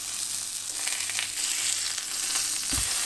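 A hamburger patty with cheese sizzles steadily in a pan, close and continuous, with a brief low thump near the end.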